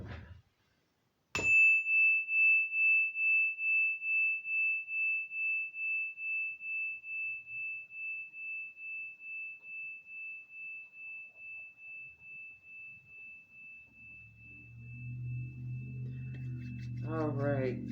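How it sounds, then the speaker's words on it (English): A chime struck once to clear the energy, ringing out as a single clear, sustained tone that decays slowly over many seconds, with soft rattling and low handling noises creeping in near the end. "we'll go ahead and clear the energy with this chime here"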